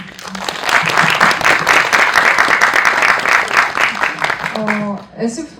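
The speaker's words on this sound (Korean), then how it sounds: "박수를 한번 좀 내." Audience applause at a post-screening talk for a film, steady clapping from a room of viewers lasting several seconds before fading, with a voice speaking near the end.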